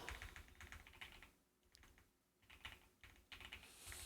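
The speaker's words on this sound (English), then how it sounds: "typing is not great today" Fingers tapping a computer keyboard in quick bursts of clicks, faint and close, with a short pause midway before the typing picks up again; no voices.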